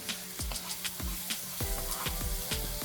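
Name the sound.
scallions added to a hot pan, sizzling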